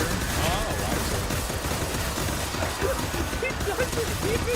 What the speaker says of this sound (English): the gunshots go up